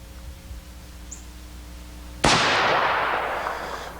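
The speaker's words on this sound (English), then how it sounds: "Let's take a shot out 25 yards." A single rifle shot fired downhill at a target 25 yards away through a 6-power scope, one sharp loud crack midway followed by a decaying echo tail after quiet outdoor background.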